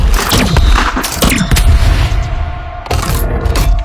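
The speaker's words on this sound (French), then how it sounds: "Mise à niveau du système. Canon à neutrons." A neutron cannon sound effect fires in heavy, loud repeated booms and rumbling blasts, with dense crackling bursts coming in rapid succession.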